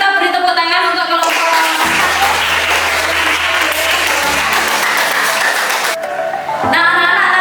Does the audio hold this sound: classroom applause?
yes